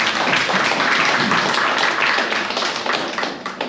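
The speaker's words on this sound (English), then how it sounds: "Let's give them a round of applause." Steady, dense applause from a town hall audience in Brooklyn, loud and continuous for a few seconds before starting to thin out toward the end.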